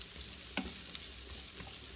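Calamari pasta with artichokes sizzles softly in a pan over low heat, a steady faint frying hiss with a few light scrapes of stirring.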